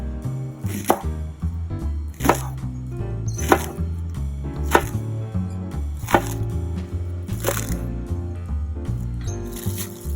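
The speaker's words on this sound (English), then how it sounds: "I then want to be chopping these up" Knife chopping Korean sheet fish cakes into pieces for tteokbokki, a series of about eight sharp, evenly spaced chops on a cutting board, close and clear with no talk.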